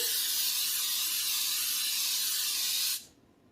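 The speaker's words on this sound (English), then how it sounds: "some type of spray with flour in it, and I like to spray it over the sink" A continuous spray of flour-containing baking spray hisses loudly into a cake pan for about three seconds, then stops abruptly, leaving quiet room noise.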